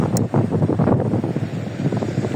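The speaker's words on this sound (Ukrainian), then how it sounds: "дуже-дуже сильний вітер" Strong, steady wind roars and buffets the microphone on a Black Sea pier in winter, with a low rumble of surf underneath throughout.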